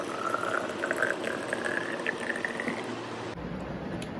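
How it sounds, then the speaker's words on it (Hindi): Water runs steadily from a container into a baby bottle in a home kitchen, a continuous close trickle with a faint rising pitch as the bottle fills, then stopping near the end. "इसमें मैं पानी निकाल देती हूँ।"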